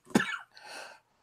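One sharp, close cough followed by a softer, raspy exhale, all within about a second.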